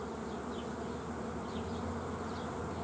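Honey bees buzz at a beehive during hive work, a dense continuous hum with occasional closer passes by individual bees, steady and fairly faint, with no talk.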